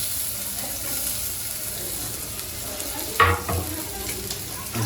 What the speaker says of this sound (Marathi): छान आता कांदा परतून घ्यायचा